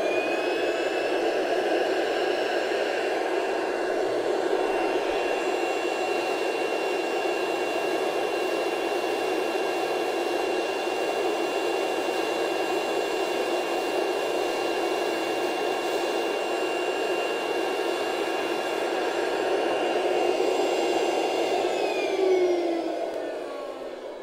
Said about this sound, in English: we would turn the handle to loosen it and then create the vacuum